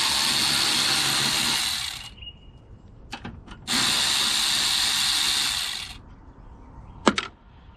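Power tool spinning off the battery hold-down nut on a 2011 Toyota RAV4: two steady bursts of whirring, each a couple of seconds long, separated by brief clicks and handling knocks, close up.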